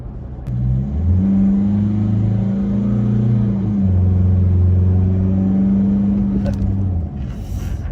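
A 2024 Isuzu X-Rider pickup's 1.9-litre turbo diesel engine idling and then revving steadily with a deep, throaty rumble, close by, with no talking.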